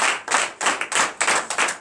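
Congregation at a night deliverance and prophecy church service clapping in acclamation, a loud rhythmic series of about seven group claps in quick succession, close by and without talk.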